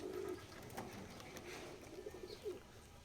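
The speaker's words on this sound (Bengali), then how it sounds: "এই যে বুনো কবুতরটা, যে এটা আমার একটা বাচ্চা কবুতর।" Pigeons, including a young and a wild one, give soft, faint coos at a distance, a short call at the start and a few more murmurs later amid quiet room noise.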